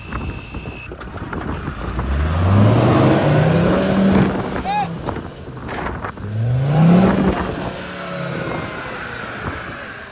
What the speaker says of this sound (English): We deflated the tires and set the Discovery 2 off